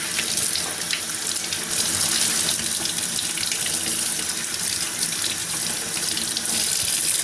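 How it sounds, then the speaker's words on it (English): Potatoes being washed under a running tap: a strong, continuous hiss and splash of water pouring into a sink, close and even throughout with small shifts as the flow is disturbed, no speech. "Now when you wash these potatoes up, you want to get them washed pretty good"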